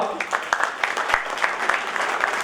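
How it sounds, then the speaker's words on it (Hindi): An audience claps at a Mithila Student Union first foundation day event during a release ceremony. The applause is dense and lively, with close, sharp claps throughout. "तो हम एक बार जोरदार ताली चाहब अहाँ सबसे।"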